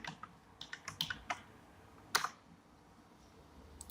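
Computer keyboard keys tapped in a quick burst of typing, then a pause, a sharp louder clatter and a few last taps, close and crisp over a quiet room.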